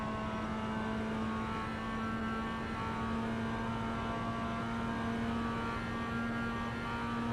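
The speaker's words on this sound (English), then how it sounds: "I'm off the brake and I'm on the gas in 2nd gear" A Mazda MX-5 Cup race car accelerates in second gear at VIR, heard from inside the cockpit as a steady, loud engine drone that holds throughout without pauses.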